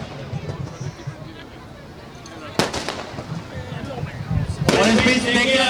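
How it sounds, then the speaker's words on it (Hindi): Fireworks bursting over a Ravan Dahan festival ground in Jodhpur, with sharp cracks and a loud crackling barrage rising over the hubbub of a large outdoor crowd. "और इस बीच देखिए आप ये आतिशबाजी का नजारा भी शुरू हो चुका है"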